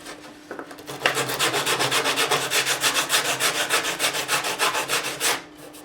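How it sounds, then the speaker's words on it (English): Sandpaper rubbing back and forth across the finish of a 1983 Kramer Focus 3000 guitar body, a steady run of rhythmic, close strokes about twice a second that ends abruptly near the finish. "I'm just going to go across with the sandpaper"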